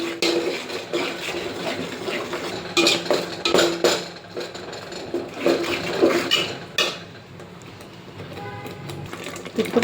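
Chili powder, turmeric, salt and masala are stirred in a pan, giving a continuous scraping and clinking of utensil against metal with uneven strokes, close and moderately loud, while a person talks over it.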